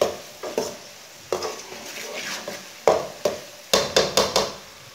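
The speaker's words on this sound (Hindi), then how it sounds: "टमाटर को भी 2 मिनट तक भून लिया" Tomatoes frying in a pan for dhaba-style chana dal palak, a spatula scraping and tapping the pan in sharp, irregular strokes over a soft sizzle, close and without talk.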